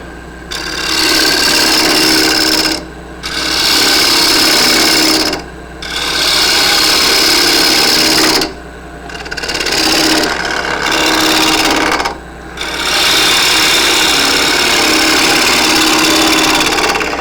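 A wood lathe turns a quaiche, a shallow two-handled drinking bowl, as a gouge cuts with a loud, steady rasping hiss in long passes broken by brief pauses where the tool lifts off.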